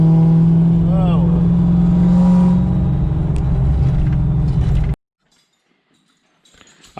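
A tuned car engine revs hard and loud, its pitch sweeping up and holding in a strained roar before cutting off abruptly into near silence, followed by faint clatter.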